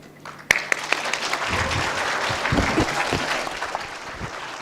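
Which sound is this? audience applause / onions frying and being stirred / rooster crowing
audience applause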